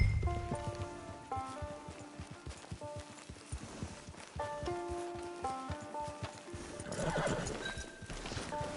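Horse in the Red Dead Redemption Online video game, steady clip-clop of hooves with a whinny, over game music with sustained tonal notes, fairly close and continuous.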